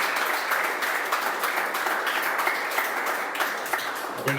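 A church congregation breaks into steady, dense applause that fills the space, with a few sharper claps standing out near the end.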